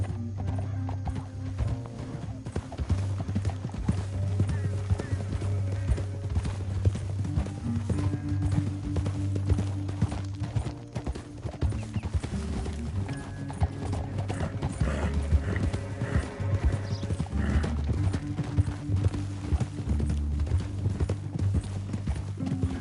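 Horses galloping in Red Dead Redemption 2, a fast, rhythmic clip-clop of hooves with occasional whinnies, running continuously over a tonal game soundtrack.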